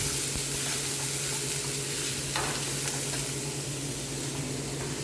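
Chopped carrots and beans sizzle in a hot pan for a Kerala-style poriyal, with steady close frying hiss and a brief scrape of stirring partway through.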